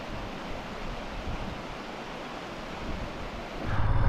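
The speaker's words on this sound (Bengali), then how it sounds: "ডান দিকে একটা নদী বয়ে যাচ্ছে" A river with a fast, crystal-clear green current flows beside a mountain road near Mechuka, a steady broadband rush of water that swells louder near the end, with no talking.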